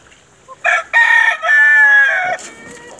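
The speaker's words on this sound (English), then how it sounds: "Oh yeah, crazy roosters." Roosters on a tree farm crow loudly and close by, one long cock-a-doodle-doo with a few shorter clucks and calls around it.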